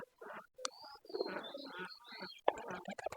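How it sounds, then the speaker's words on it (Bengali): Soft, close pigeon coos and rustling as pigeons are hand-fed chickpeas, with several low throaty calls in short bursts and a few brief clicks. "অলরেডি দুইটা কবুতর চলে আসলো হাতে"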